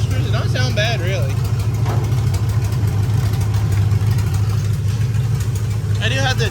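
Demolition derby car engine idling with a rough, steady low rumble, while voices talk intermittently over it near the start and end.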